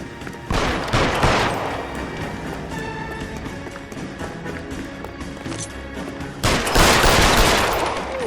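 Gunfire in the L.A. Noire video game, a loud burst of shots early, a stretch of busy action sounds, then another heavy volley near the end, no clear talk.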